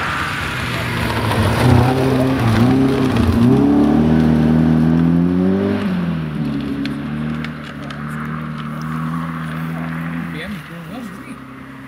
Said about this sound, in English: Sliding his Porsche 911 through the early part of Crooken is Ricky Profit with Graham Wilde co-driving